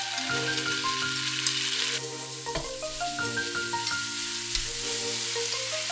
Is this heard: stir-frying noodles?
yes